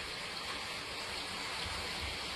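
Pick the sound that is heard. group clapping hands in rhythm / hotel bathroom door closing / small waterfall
small waterfall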